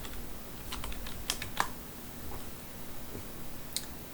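Password being typed on a computer keyboard, a quick run of light, crisp key clicks in an irregular rhythm, close and fairly quiet, with no one talking.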